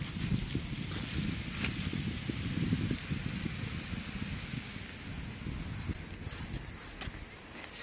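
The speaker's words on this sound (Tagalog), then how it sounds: "So it's raining." Rain falls steadily during a snowy spell in Bologna, Italy, a dense patter with scattered louder drops and low rumbling, heard close by with no talk.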